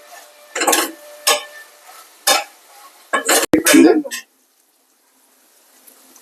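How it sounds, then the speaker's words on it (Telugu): Green chillies and onions frying in a pan for a spicy Punjabi red chicken dish, heard as a few short bursts of sizzling and stirring scrapes that stop after about four seconds, leaving quiet. "గ్రీన్ చిల్లీ వేస్తున్నాను చూసిన తర్వాత మనం కొంచెం ఫ్రై చేసుకోండి"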